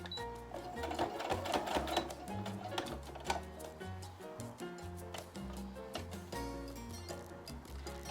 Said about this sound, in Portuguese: vou continuar costurando e vou terminar de fechar aqui com o elástico